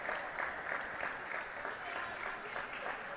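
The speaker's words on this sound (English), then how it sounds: "The Wassa bench claps." A team bench claps at a table tennis match, a quick run of rhythmic hand claps from a small group, fairly faint and somewhat distant, continuing through the short moment.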